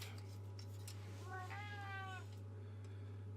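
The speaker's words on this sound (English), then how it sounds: "Sorry about the whining cat." An old cat lets out a drawn-out, wavering whine-meow, faint and a little distant, under a steady electrical hum in an indoor room where a model kit is being built.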